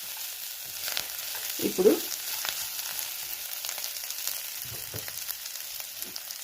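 Dry red chillies and ginger frying in a pan for poha with cucumber, a soft steady sizzle with occasional louder pops and stirring bumps, a brief word spoken over it.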